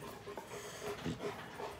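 Dogs pant quickly and faintly nearby in a home kitchen, with soft rhythmic breaths and slight whimpery snuffles.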